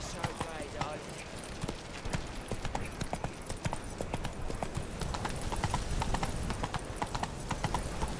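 Roach, the horse in The Witcher 3, trots with rapid, rhythmic, close hoofbeats that continue throughout at a steady loud level, with brief speech over them.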